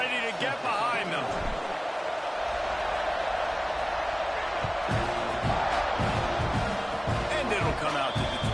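A football stadium crowd roars steadily through a kickoff, a dense wall of cheering with a play-by-play commentator talking over it.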